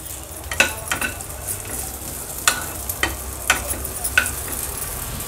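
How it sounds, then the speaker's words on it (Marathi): Dry fruits sautéing in ghee over a very low flame, a soft sizzle under scattered spoon scrapes and light taps against the pan, close and moderate in level, with no speech. "हे बघा अगदी लो फ्लेमवर हे ड्रायफ्रूट्स आपण तुपावर परतून घेऊया"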